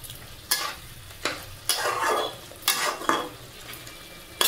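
Chicken stirred with yogurt in a sizzling pan, a spoon scraping in several distinct strokes over a soft continuous frying hiss, close and fairly quiet.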